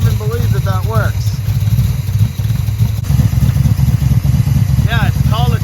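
A 1973 Dodge Dart Swinger budget drag car runs close and loud after a rough cold start with a low, uneven engine rumble and clatter, while people talk over it.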